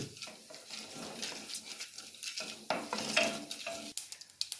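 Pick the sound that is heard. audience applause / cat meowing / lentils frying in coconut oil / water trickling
lentils frying in coconut oil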